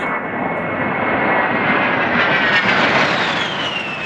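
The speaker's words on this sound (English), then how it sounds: "That sound means the A-10 Warthog is overhead." An A-10 Warthog attack jet roars steadily overhead, loud and close, with a high whine sliding through the engine noise.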